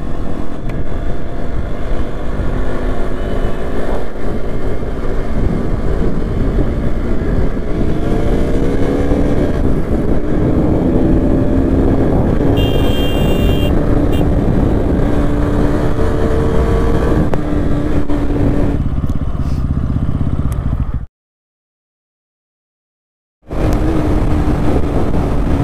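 A loud motorcycle engine revs and roars steadily, pitch rising and falling as it accelerates, then cuts out briefly before returning.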